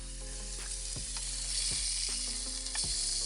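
Food toasting in a fry pan on a SAN Hima camp stove gives a steady, close sizzle throughout, with a few sharp scrapes as it is stirred and no voices.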